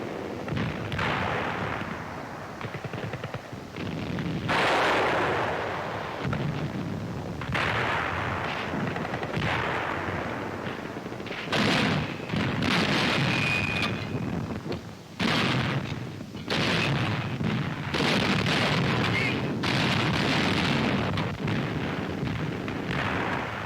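World War II combat on the Eastern Front, with repeated heavy artillery blasts and bursts of gunfire echoing across the battlefield, loud and irregular, some shots close and others distant, with no voices.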